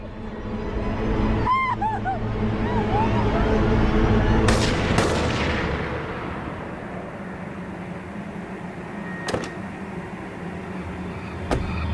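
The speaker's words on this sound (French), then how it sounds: "Un individu entend des coups de feu et appelle la police." Several sharp gunshot-like bangs ring out, a close pair early on and two isolated cracks later, over a busy rumbling background with faint tonal sounds.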